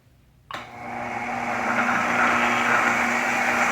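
The electric motor of a bead roller switches on abruptly and settles into a steady, close whirring hum that holds without a break.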